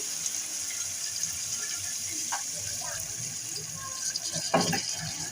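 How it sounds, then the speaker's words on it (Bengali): A little water poured into a cooking pot of spiced potato and fish curry being sautéed on the stove, a steady hiss running throughout with a few brief splashes and a louder pouring gush near the end. "আমি এর ভিতরে হালকা করে একটু পানি মিশিয়ে নেব"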